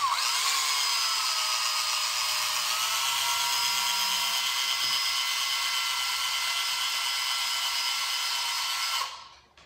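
Power drill boring into the nose of a kayak, a steady high-pitched whine running close and loud for about nine seconds before cutting off abruptly at the end.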